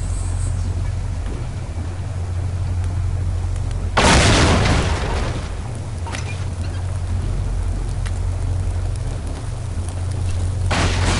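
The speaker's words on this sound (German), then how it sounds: "Ich werfe eine Granate." A grenade exploding in the video game Get a Life, one loud broad blast that swells out of a steady low game drone, then fades into rumble, with a second softer burst near the end.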